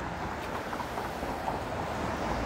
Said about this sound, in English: That streetcar will run to where Dundas curls up north and meets Dundas or Bloor Street.